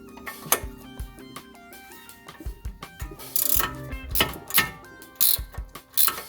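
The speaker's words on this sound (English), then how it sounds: "I'm going to remove this bolt and that one with 17mm ratcheting wrench and socket" A 17mm ratcheting wrench working on the front brake caliper bolts of a 2004 Subaru WRX, with rapid clicking ratchet bursts and metallic clanks in irregular spurts, close and fairly loud.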